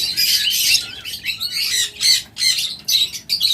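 A pair of blue opaline pet birds at a bird sale gives off repeated shrill squawks and chirps in close, uneven bursts with brief gaps, with no talk.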